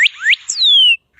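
Northern cardinal call: two rising clear whistled notes followed by a longer descending slurred whistle, loud and close, alone with no background noise.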